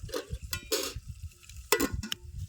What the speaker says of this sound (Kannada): ಉಳ್ಳಾಗಡ್ಡಿ ಮತ್ತು ಮೆಣಸಿನ್ಕಾಯಿ ಇವೆಲ್ಲ ಚಂದ ಫ್ರೈ ಅಲ್ರಿ